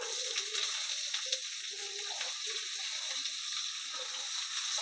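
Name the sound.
sliced onions frying in oil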